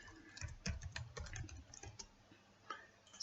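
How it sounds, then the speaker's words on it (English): Keys clatter on a computer keyboard in quick, irregular bursts as a word is typed, close and fairly soft, with a short pause before a final few strokes. "I'm typing hillshade here"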